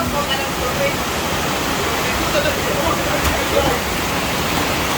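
Steady, dense rain hiss fills the whole stretch, loud and close, with faint voices murmuring underneath.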